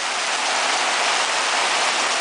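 Steady heavy rain falling continuously, a dense even hiss close by with no pauses, no voices over it.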